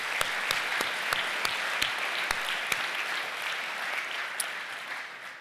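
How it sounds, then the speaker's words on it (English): A crowd at a tourism organization event gives a sustained round of applause, many hands clapping evenly with a few sharper individual claps standing out, steady and fairly loud before tapering slightly at the end. "One more round of applause for them."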